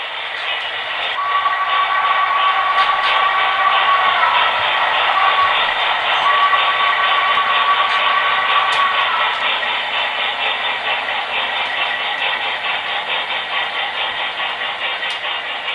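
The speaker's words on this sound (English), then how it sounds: "Train 54, Eastbound LSX, Livestock Extra, arrives at the West Raton yard limit" An HO scale model train, a Santa Fe eastbound livestock extra, rolls steadily toward the West Raton yard limit on a layout, a loud continuous close rumble and rattle of wheels on track, with a faint steady whine threading through.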